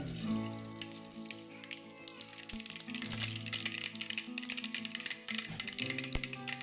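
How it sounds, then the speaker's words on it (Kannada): Mustard seeds splutter and pop in hot oil in a home kitchen pan while a dish is being cooked, giving a dense, continuous crackle of close, sharp pops with no talking. "ಸಾಸಿವೆ ಹಾಕ್ತೇನೆ"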